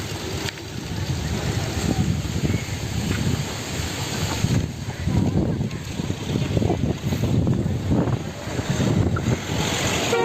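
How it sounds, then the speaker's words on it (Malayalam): A passenger ferry boat moves across the water toward a jetty while gusty, dusty wind blows, giving a steady broadband rumble of engine and wind noise that holds throughout at a moderate level. "ബോട്ട് അങ്ങ് പോകുന്നുണ്ട്, അടുത്ത ബോട്ടിങ് വരുന്നു."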